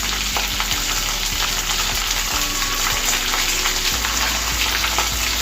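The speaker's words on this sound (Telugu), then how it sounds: "ఇదంతా కూడా ఇవన్నీ కూడా బ్రౌన్ కలర్ వచ్చే వరకు వేయించుకోవాలండి" Onions, green chillies and curry leaves fry in a pan on medium flame for semiya upma, giving a steady, close sizzle with occasional stirring scrapes and no talk.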